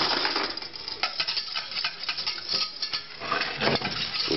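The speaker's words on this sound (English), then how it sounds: "And then we're going to begin whisking it together." Whisk scraping and clinking against a metal pot as strained butter heats for cheddar ale soup, a steady close rhythm of metallic taps and stirring with no talk.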